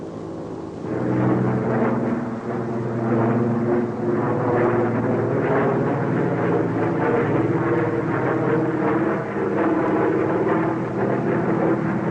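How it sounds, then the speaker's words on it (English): An airplane in flight produces a loud, continuous engine drone that holds steady with slight pulsing for the whole stretch, heard alone without speech. "That plane is flying in the wrong direction."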